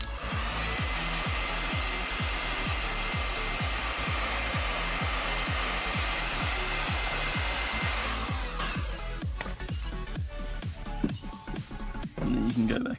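A heat gun warms the adhesive behind a car badge during debadging, its loud steady blowing roar running close for about eight seconds before cutting off. A regular sawing or scraping rhythm runs underneath, and clattering handling noises follow the cut-off.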